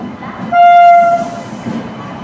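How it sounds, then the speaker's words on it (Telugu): A WAP-7 electric locomotive on the 12744 Vijayawada–Gudur Vikrama Simhapuri Superfast Amaravati Express stands at a railway platform and sounds one clear, steady horn blast of under a second over a low station rumble. "వ్యాప్ 7 లోకోమోటివ్ అయితే ఫుల్ చేస్తుంది బండిని"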